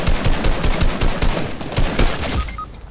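Rapid automatic gunfire in a video game, loud, close and nearly continuous for about two and a half seconds before cutting off into a brief quieter tail.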